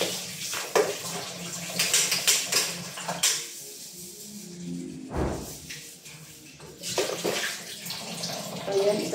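Tap water runs from a faucet in a home kitchen, a steady hissing stream that stops and starts in bursts, with some clattering of dishes and pans in between.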